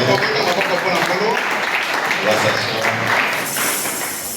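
A church congregation applauds and cheers, with continuous clapping and raised voices mixed in, loud and close, tapering off toward the end.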